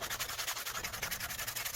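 Sandpaper rubbed over an apple wood bowl by hand, a close, soft, rhythmic back-and-forth scratching with steady even strokes.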